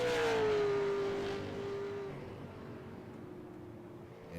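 A super late model race car on an oval track rolls past on a stock car racing night, its engine drone falling in pitch as it pulls away and fades into distant track noise, with no voices.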